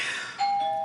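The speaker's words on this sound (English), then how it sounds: "That was my doorbell." A home doorbell rings once, a bright single electronic chime tone sounding clearly after a soft hissy moment, alone with no talking.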